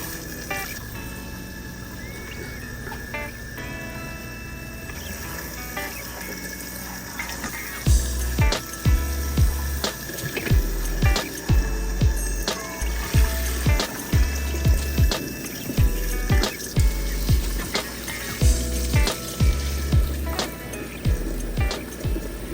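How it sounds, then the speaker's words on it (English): Running tap water splashes steadily over relish vegetables as canning salt is rinsed off, with a dense continuous flow joined midway by rhythmic heavier sloshes and squishes as the vegetables are worked by hand. "we're gonna rinse it really well"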